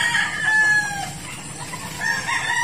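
Derby-size gamefowl stags in a breeding pen crowing, two fairly close, clear crows separated by a short pause with faint farmyard background.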